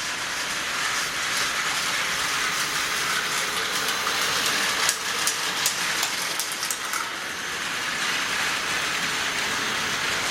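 A TOMY Plarail battery-powered toy train runs along its plastic track with a steady, close whirring hum and faint clicking rattles from the rails.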